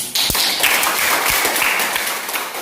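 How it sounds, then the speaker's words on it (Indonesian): Students in a classroom clap together in steady applause, a close, continuous patter with a few louder thumps, and little talking. "Tepuk tangan."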